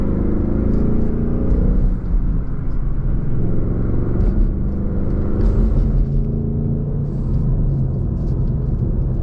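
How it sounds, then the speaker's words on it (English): A 2021 Ford Mustang Mach 1 with a six-speed manual and its exhaust in track mode gives a deep, steady engine rumble from inside the car. The note holds at an even, loud cruise with no clear revving. "I'm gonna put the exhaust in track though"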